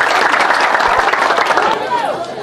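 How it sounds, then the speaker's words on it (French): Applause from a women's association gathering in Hermankono, a brief burst of crowd clapping and voices that fades as it ends. "applaudissez pour vous-même."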